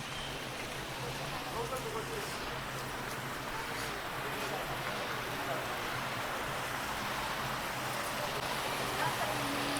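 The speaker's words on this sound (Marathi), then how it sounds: "हे बघा असं पूर्ण पाणी तिकडनं शिड्यांवरून पडतंय" Water cascading down a flight of steps in a small Japanese-style garden in Mumbai, a steady, loud, broadband rush that stays even from start to finish.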